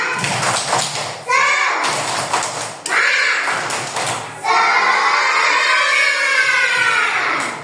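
Children clap in quick rhythmic bursts while chanting loudly together, with pauses between bursts and a lively classroom crowd.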